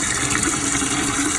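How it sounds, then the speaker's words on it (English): Water rushing steadily into a toilet tank fitted with a FluidMaster 400 fill valve, a continuous hissing gush at constant level with no pauses. "While the tank fills up with water."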